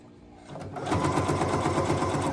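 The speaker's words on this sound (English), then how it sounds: "I'm distracted and I'm sewing" Sewing machine stitching fabric, starting softly and then running at a steady fast hum with a rapid needle rhythm, close and loud with no talking.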